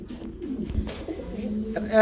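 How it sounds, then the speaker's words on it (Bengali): Soft, low cooing of pigeons repeating close by, with rustling and a brief thud partway through. "রাব্বি ভাই এখানে আমরা কি কবুতর দেখতে পাচ্ছি"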